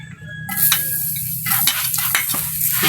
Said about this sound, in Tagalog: Ilalagay na po muna natin itong bawang.